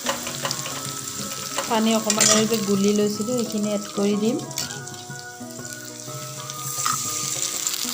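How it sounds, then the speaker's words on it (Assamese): Masala frying in a pan until brown sizzles steadily while a utensil stirs and scrapes through it, with someone speaking over the cooking and occasional clinks of the pan. "মছলাখিনি এতিয়া ব্ৰাউন কালাৰ হোৱালৈকে ভাজি থাকিব লাগিব।"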